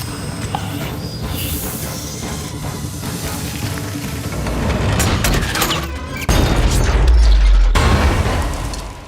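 An explosion blows open a safe door in the Ant-Man film heist scene, a booming blast that builds over rumbling mechanical noise and peaks in a heavy low burst near the end, loud and close.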